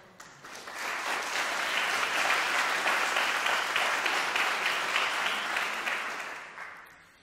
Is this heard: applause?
yes